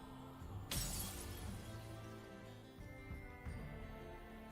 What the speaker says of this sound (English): With a sound like shattering glass, Alteria's barrier erupts into pieces.